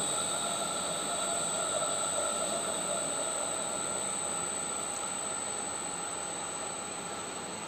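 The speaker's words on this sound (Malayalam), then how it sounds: "ഇവിടെ ഫ്രീക്വൻസി കൂട്ടും തോറും മോട്ടോറിൻ്റെ സ്പീഡ് കൂടുന്നത് കാണാം" An AC electric motor running at low speed under an AC variable-frequency drive gives a steady, continuous hum and whine with a faint high squeal, an unchanging drone with no speech.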